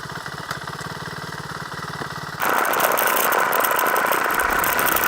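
A Suzuki DRZ400 single-cylinder dirt bike on a dry, dusty Surrey green lane, its engine thumping steadily at a distance before swelling abruptly louder and rougher as it draws near the camera.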